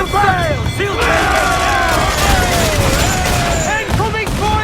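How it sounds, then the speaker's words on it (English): Ship cannons fire in a naval battle in the video game Assassin's Creed 4 Black Flag, with repeated booms over a dense, loud wash of game sound and shouting crew voices throughout. "Fire! The cannons!"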